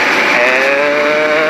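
A motorcycle ridden close by, a loud continuous engine drone holding a steady pitch with a slight waver throughout.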